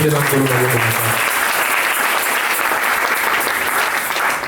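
A church congregation breaks into loud, sustained applause, a dense wash of many hands clapping close and steady, with a voice heard briefly at the start.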